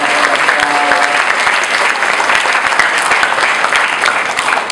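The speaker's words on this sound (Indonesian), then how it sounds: "kasih tepuk tangan dulu dong buat Pak Khalid." A hall full of people claps for a guest at a school career outreach event in Jakarta, loud continuous applause holding steady throughout, with a faint tonal murmur beneath the clapping.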